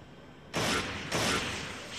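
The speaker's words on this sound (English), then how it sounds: "I'm just shooting" Gunfire in the video game Gangstar Vegas, two loud, broad bursts about half a second apart, each with a decaying tail, over faint background.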